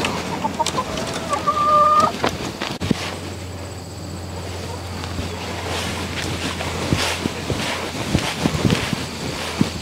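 Young chicks cluck and peep near a feeder in a coop, steady chirps and clucks throughout with breezy outdoor rumble underneath.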